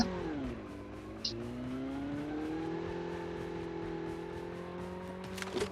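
Vehicle engine in the Call of Duty battle royale game, a steady droning hum that dips and rises in pitch as it revs, continuous and close, with a few sharp clicks near the end.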